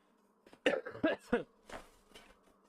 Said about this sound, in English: this cough is still with me after all this time, and it's really annoying